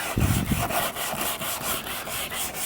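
Repeated rubbing strokes of hand sanding on a repaired plastic car bumper, a steady scratchy rhythm up close with no talking.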